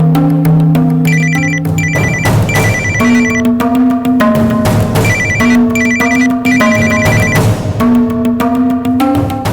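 A mobile phone ringtone plays loudly and continuously as a melodic electronic tune with repeating high chiming notes, with no voices over it.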